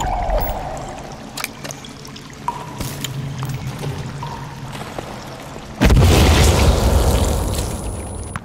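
Explosives detonate inside a cave in the survival game Sons of the Forest: after quiet trickling ambience with small clicks, a single sudden, loud blast erupts and leaves a rumbling roar that slowly fades, with no voices.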